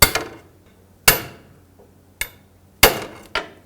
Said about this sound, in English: Put the pry bar right up against that clamp and hammer it on the end of it.